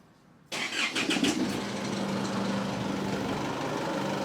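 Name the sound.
diesel engine cranking and starting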